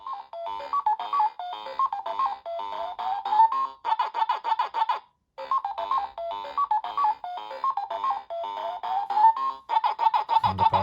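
A Pac-Man Paladone alarm clock from 2018 plays its electronic chiptune melody loudly and up close, looping the tune with short gaps between phrases, alone without speech.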